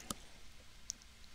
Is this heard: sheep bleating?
no